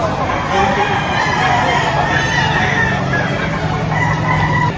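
A rooster crows loudly and close by at a fowl market, its call drawn out over a background of murmuring voices and other birds.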